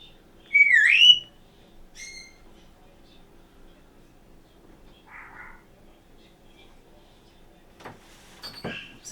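A pet bird gives a short, bright rising whistle, then a few fainter chirps, with long quiet gaps in an indoor room and a soft thump or shuffle near the end.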